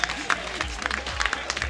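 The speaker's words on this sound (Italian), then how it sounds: "Un applauso per la nostra vincitrice di selezione Evergreen, Sandra De Caro" A party crowd at a Miss Mamma pageant in Porto Viro applauds the Evergreen selection winner, with scattered claps over steady crowd noise and a voice talking through it.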